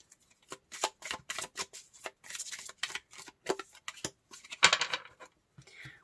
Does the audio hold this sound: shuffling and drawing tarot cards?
yes